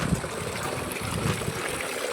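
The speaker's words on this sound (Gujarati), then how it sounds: "અહીંયા પાણી જાય છે, પાણી ચાલુ છે." Water runs steadily through an irrigation channel beside farm fields. A continuous, fairly close rushing and trickling wash carries on without pause.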